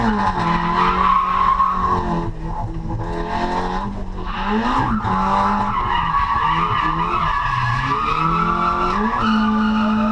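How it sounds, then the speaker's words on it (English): A car drifting on a track day, with tires squealing continuously through a corner while the engine drones and shifts pitch as the clutch is kicked mid-corner, loud and close throughout. "And there's that clutch kick that I've been chasing all day mid-corner."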